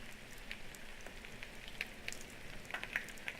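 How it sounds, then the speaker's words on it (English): A steady crackling sizzle with scattered sharp pops and spits, like bacon frying, in the video game The Forest, continuing at a moderate level without any voices. "Listen to that sizzle."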